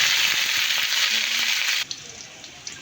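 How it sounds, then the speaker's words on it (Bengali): Onion hitting hot oil in a heated wok for a rohu and eggplant curry, giving a loud, steady hiss that cuts off sharply partway through, followed by faint scattered crackles. "কড়াইটা গরম হয়ে গেছে, আমি পেঁয়াজটা দিয়ে দিই"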